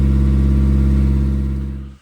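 A narrowboat's engine runs steadily while it heats the calorifier, a loud, even diesel drone with a pulsing low hum that holds close and constant before cutting out at the end.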